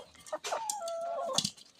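Chickens on a poultry farm, a close clucking call with a drawn-out tonal squawk and a few short clucks.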